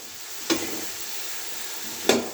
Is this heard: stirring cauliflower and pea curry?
yes